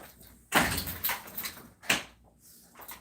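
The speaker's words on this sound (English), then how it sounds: "Let me lock the door." Someone shuts a house door and works the lock, a couple of solid thumps and clacks close to the listener with short quiet gaps between them.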